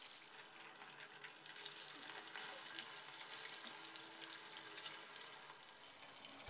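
Tilapia frying crisp and golden in hot oil, a faint, steady, fizzing sizzle with fine crackles throughout, heard alone with no talking.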